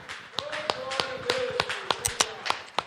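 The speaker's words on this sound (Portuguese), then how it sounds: "Uma salva de palmas ao Senhor Jesus" Hands clap in a steady, evenly spaced rhythm of sharp individual claps during a church service honouring Jesus, with a sustained voice running underneath.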